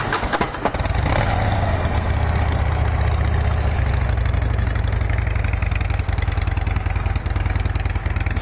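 A fuel-injected Harley-Davidson Super Glide FXD motorcycle with 37,064 miles idles loudly and steadily at close range, a continuous low rumble with no voices.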